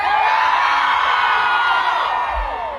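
A large festival concert crowd of women screams and cheers together at once, a loud, sustained, high-pitched roar that holds steady and then tapers slightly at the end.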